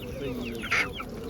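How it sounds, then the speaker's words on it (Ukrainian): A single short cluck from a 10-month-old hen rises briefly over a steady background of animal-market noise and murmuring. "Це 10-місячна курка"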